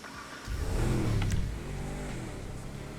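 A 1200-horsepower Bugatti Veyron 16.4 SuperSport in GTA Online revs up loudly after a brief quiet start, its engine surging then settling into a steady, throaty drone.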